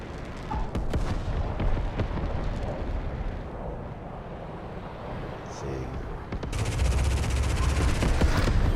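Rapid machine gun fire in the video game Metalstorm, dense and continuous bursts that grow louder and more intense toward the end, with a voice talking underneath.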